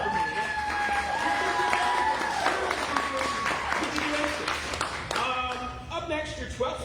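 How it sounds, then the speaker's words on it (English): An open mic audience breaks into applause and cheering for a poet, the clapping dense and lively, with a few voices and whoops rising over it before it thins toward the end. "Can we get a round of applause for feminist icon Alpha?"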